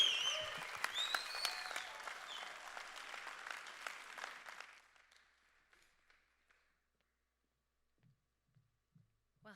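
An audience at a live music night claps and cheers, the applause and a few shouts fading out after about five seconds, then scattered single claps near the end.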